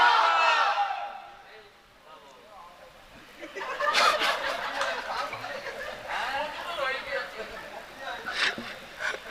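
At a night-time Bengali religious sermon, a gathered crowd roars back a loud takbir response, a swelling mass of voices from a distance that rises and falls in waves after a brief lull.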